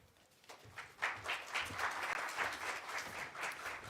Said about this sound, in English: now we give ourselves a round of applause for having been good audience